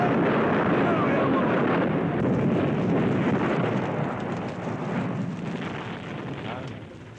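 Film sound effect of a shop exploding and catching fire, a sustained loud rumbling roar of blast and flames filling the scene, slowly easing toward the end.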